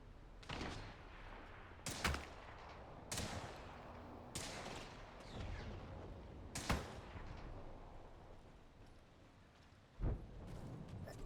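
Gunfire in an Apex Legends match: several sharp, separate shots cracking at irregular intervals, some near and loud, others fainter, over a low background rumble.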